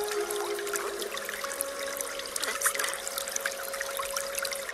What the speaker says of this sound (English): Perhaps you'd like to hear the soothing sounds of an elegant waterfall.